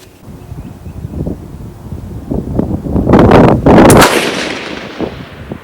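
A 6.5 Grendel rifle fires as loud, sharp blasts with wind rushing across the microphone; the heaviest report lands about three seconds in, with scattered bangs and outdoor rustle around it.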